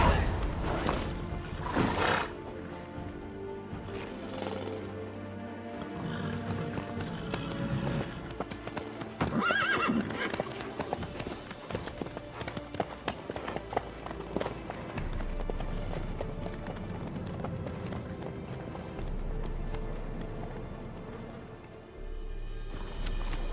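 A horse clip-clops along at a gallop in the video game Witcher 3, its hoofbeats rolling steadily under speaking voices and a bed of game music.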